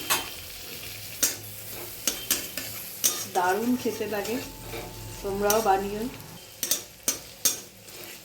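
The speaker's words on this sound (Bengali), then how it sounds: "এর মধ্যে কাঁচা লঙ্কা কুচি, পেঁয়াজ কুচি, এগুলো দিয়ে একটু ভালো করে নেড়ে নেব" Utensil scraping and stirring onions and chopped green chillies in butter in a sizzling pan, with soft frying hiss throughout and a few sharp clinks; someone talks over part of it.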